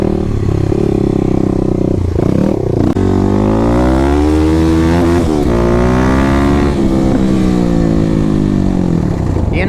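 A 2021 Kawasaki KLX300 dirt bike with a Barker exhaust roars loudly and steadily while riding a trail, its engine note climbing and falling through revs with a brief dip around the middle, close up and continuous.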